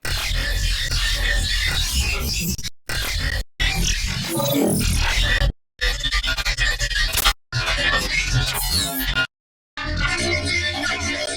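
A bass jam recording, time-compressed and granular-processed in textures mode with grain size 65, plays as a dense, smeared wash of sound. Abrupt silent gaps cut through it several times. It is loud and continuous, with no voices.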